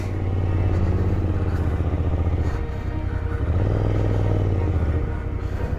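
A motorcycle engine rumbles steadily up close while climbing a steep, rough mountain road in Arunachal Pradesh, its low drone continuous and loud with a slight clatter.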